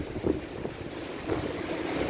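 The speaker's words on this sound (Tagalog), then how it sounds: "ang laki-laki ng alon ngayon" Large sea waves and strong wind during Typhoon Aghon in the Philippines, with a constant roaring rush and surf churning close by, swelling slightly louder toward the end.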